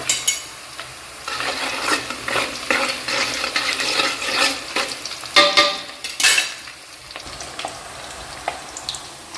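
Slices of large raw plantain fry in hot oil for chips, giving a loud, continuous bubbling sizzle with occasional clinks and stirring scrapes close by.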